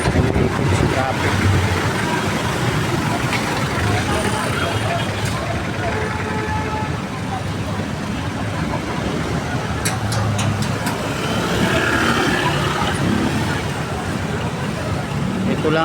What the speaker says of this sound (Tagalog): Okay guys, tayo naipit sa traffic.